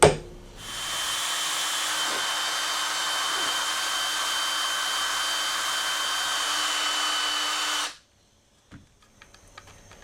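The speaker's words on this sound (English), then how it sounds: "I'm just going to enlarge the marks that I already have there, so there's something positive for the drill bit to grab onto." A power drill runs steadily for about seven seconds, enlarging tuner hole marks on a Stratocaster guitar neck, a sustained whine that then stops abruptly and leaves near silence with a few faint clicks.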